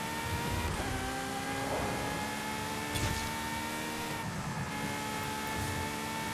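Ferrari FXX K Evo race car in Forza Horizon 5, its 1,000-horsepower rear-wheel-drive engine droning steadily at high revs with shifting pitch and brief gear changes, loud and continuous with no talk.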